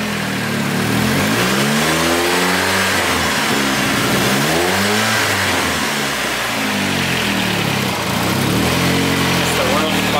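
A small engine runs loudly and close, its pitch rising and falling in repeated revving swells across the whole stretch, with voices talking over it.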